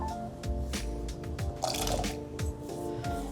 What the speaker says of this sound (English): Now scoop those up into some boiling water.